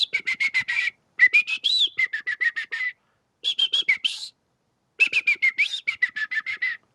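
A person whistles an imitation of a bird tweeting a song, delivered as rapid trilled phrases in four bursts separated by short pauses, fairly loud and close with no talking.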